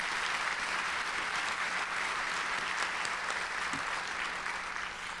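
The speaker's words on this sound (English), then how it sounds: "Let's give him a round of applause." Steady applause from an audience at the 2012 Chicago Leadership Prayer Breakfast, a dense, even patter of many hands clapping without pause for the full few seconds, moderately loud and with no voices over it.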